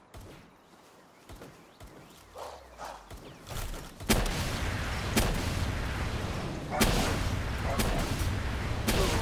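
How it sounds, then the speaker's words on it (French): Explosions and gunfire-like blasts in the video game Palworld: quieter scattered thuds and footsteps first, then a loud sustained barrage of booming impacts with repeated sharp bursts. "la deuxième explosion lui a pas fait de dégâts"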